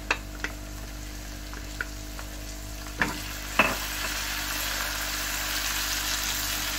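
Hot oil sizzles steadily up close as tempering spices and green chillies fry, broken by a handful of sharp pops and crackles, the hiss swelling slightly toward the end.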